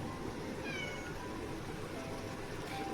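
A cat meowing in a home, a few drawn-out rising meows close by over a quiet background, with no speech.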